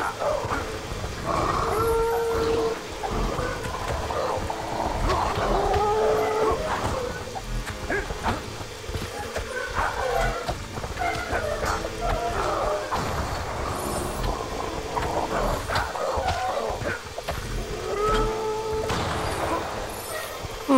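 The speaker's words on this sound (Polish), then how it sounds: "Jack's lovely minions are back and they brought some puppies for our hero to play." Puppies in Fable: The Lost Chapters bark, yip and whimper in repeated short bursts, with occasional howl-like calls, over a steady game soundscape.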